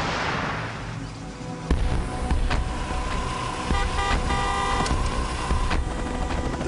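A white car creeping slowly as it tries to escape in an action scene, with a loud engine drone, car horns and street noise, and sharp bangs over the steady roar.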